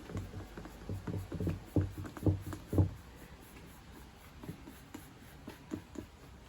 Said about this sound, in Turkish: Yaptığımız şu ortadaki izden şöyle bıçağımla kesiyorum.